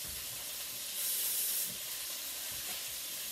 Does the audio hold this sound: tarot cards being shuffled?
no